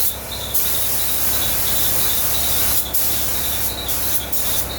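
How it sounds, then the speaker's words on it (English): Spray gun laying primer onto a 1938 SS Jaguar drophead body, a loud continuous hiss broken by a few short pauses between passes, with no talking. "Did you spray the latches"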